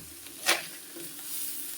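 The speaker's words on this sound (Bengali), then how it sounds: "দেখো আমি একদম হালকা নেড়ে নেড়ে দিচ্ছি।" Kechki fish chorchori with coriander leaves is lightly stirred in a pan, giving a soft, constant sizzle with one quick scrape of a spatula near the start.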